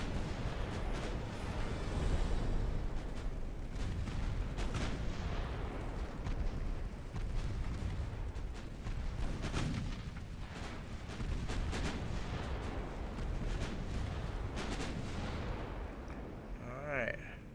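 Warship guns firing in the naval video game Ultimate Admiral Dreadnoughts: repeated heavy booming blasts and rumbling explosions, dense and loud throughout, with a brief quieter lull near the end.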